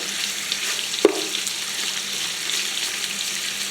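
Steady frying sizzle as chicken cooks in a pan for gumbo, a continuous close hiss with one brief knock partway through and no talking.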